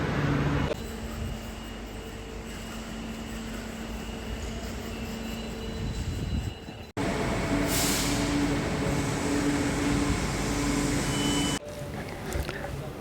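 An MRTS train rumbles steadily through St. Thomas Mount station in Chennai with a broad, roaring wash of noise, broken by a brief gap before the rumble resumes.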